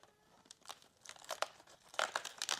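Paper packaging on a crafting advent calendar is torn open in a series of quick, close crinkles and rips that grow louder toward the end.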